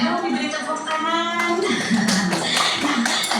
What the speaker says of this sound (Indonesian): Yeay, boleh dong diberi tepuk tangan.